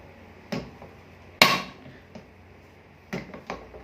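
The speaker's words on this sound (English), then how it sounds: "Now we are just rotating the nut. You can hear the small click sound from this assembly." Nut being rotated on the stroke assembly of an impact press, giving a handful of sharp, distinct metallic clicks at irregular intervals, one notably louder, close by over a quiet low hum.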